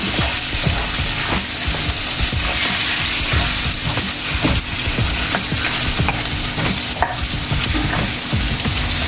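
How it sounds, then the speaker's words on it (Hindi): Pieces of meat fry and brown in a hot pan for daalcha, a steady loud sizzle with frequent stirring scrapes and clatters running throughout, no voices. "गोश्त को अच्छी तरह सुरख कर लें।"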